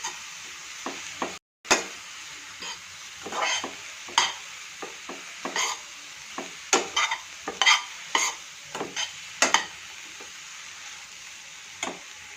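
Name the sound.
vegetable filling sautéing in a pan for momos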